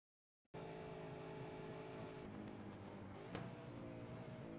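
A V8 race car at Belle Isle, held high in the revs through a corner as a loud, steady onboard engine drone with harmonic layers, a brief sharp burst near the end, no talking.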